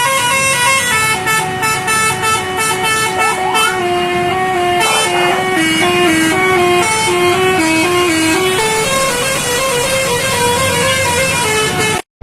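A convoy of Indonesian buses blaring musical telolet horns, loud melodic multi-tone phrases played one after another almost without pause, close by and over engine rumble.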